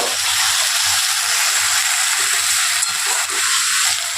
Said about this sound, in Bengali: মশলাটা আমি খুব ভালো করে কষিয়ে নিয়েছি, মশলা থেকে তেল ছেড়ে দিয়েছে